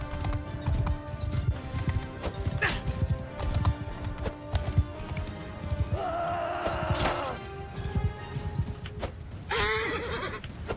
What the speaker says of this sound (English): Thankfully my horse is really sodding quick.